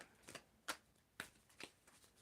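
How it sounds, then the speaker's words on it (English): Quick riffling bursts of tarot cards being shuffled, four or five short flurries at an uneven pace, close and fairly quiet. "When do you want me to stop shuffling?"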